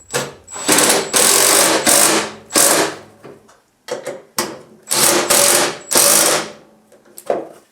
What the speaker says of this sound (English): So now I'm going to bolt the bolts on the front side down first